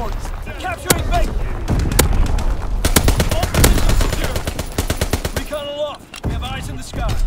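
Rapid gunfire and heavy battery shots from a Call of Duty WWII multiplayer match crackle in dense bursts and sharp single reports, close and loud, with voices talking over the shooting.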